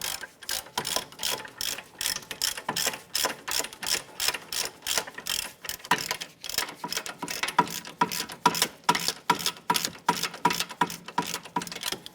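A ratchet wrench turning out a bolt on a Cadillac SRX control arm, rapid rhythmic clicking in steady bursts of swings, close and crisp, continuing for many seconds without speech.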